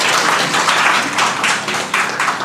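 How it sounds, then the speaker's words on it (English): An audience applauding at a fireside chat on second careers, a dense, loud wash of many hands clapping at once, steady and sustained throughout with no voices over it. "Please give her a big round of applause"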